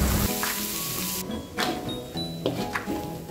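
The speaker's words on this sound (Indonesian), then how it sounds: "panaskan minyak secukupnya masukkan bumbu yang sudah dihaluskan tadi tumis sampai harum" Ground spice paste stir-fried in hot oil, a close, continuous sizzle with crackling pops and a few scrapes of a utensil against the pan.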